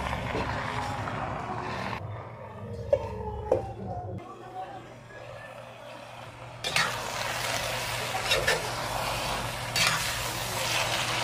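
Mixed kangkong and spinach leaves are stirred in a pan, with uneven sizzling and rustling, a few knocks of a utensil, a quieter stretch partway through, then a louder, steadier frying hiss.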